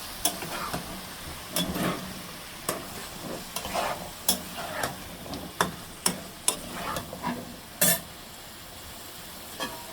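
Cubed potatoes sizzle in a pan with spaced clinks and scrapes of a spatula stirring, moderately quiet with no talking.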